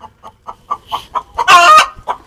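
Hens on a desi poultry farm give a run of soft, evenly spaced clucks from close by, then one loud, drawn-out squawk before the clucking picks up again.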